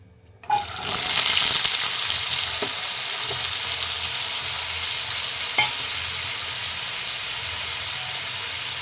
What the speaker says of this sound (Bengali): জিরেটা ভালো করে ভাজা হয়ে গেছে, আমি ওপর থেকে আলু ছোট ছোট করে আলু কেটে রাখা আলুগুলো দিয়ে দেব।